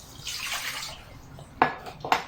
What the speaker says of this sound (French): On va se débarrasser de cette eau